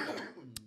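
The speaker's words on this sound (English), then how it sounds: "He's been coughing 3 days straight." A single short cough from a man during a podcast conversation, close and brief, followed by a faint click.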